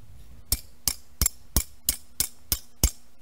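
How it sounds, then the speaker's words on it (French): Steel pieces are hammered into shape for crucible tongs. Eight sharp, evenly spaced metallic strikes ring out at a steady rhythm, each one close and loud over a quiet background. "je vous conseille d'utiliser un plus gros marteau que le mien parce que ça n'allait pas très vite"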